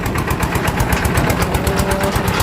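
A tractor engine runs nearby, loud and steady, with a fast, even chugging pulse and mechanical rattle throughout.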